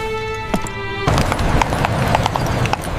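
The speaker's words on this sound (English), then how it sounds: "The horses' hooves clattered against the stones as they hurried through the foggy streets of London." Horses' hooves clatter on stone as a horse-drawn cab hurries through foggy London streets, a steady, close clip-clop rhythm that follows a brief sustained tone.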